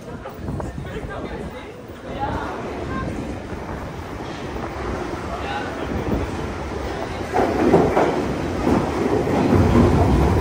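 Train pulling into a station platform, a rising rumble with wind buffeting and rattling carriages that grows louder toward the end, with background chatter and a voice speaking.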